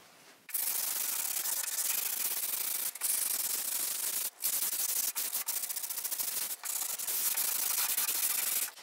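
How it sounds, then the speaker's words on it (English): Steady, loud sandpaper rasping against wood wall paneling, broken by a few brief pauses, close by and with no talking. "feel free to sand at your own speed"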